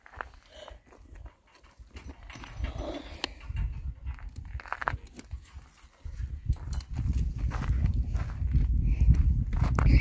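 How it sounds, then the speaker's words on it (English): A large horse walks nearby with steady hoof clops and shuffling steps, growing louder and closer over ten seconds, with no talking. "Here's a big old horse."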